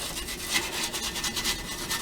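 Sandpaper rubbed by hand along an edge of an intake port on an S10 V8 swap, a close, steady gritty scratching with slight rhythmic back-and-forth swells.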